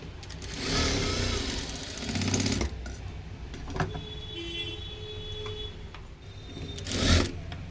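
A sewing machine stitching tucks into a blouse runs in short bursts of whirring, starting and stopping several times, with a louder burst near the end.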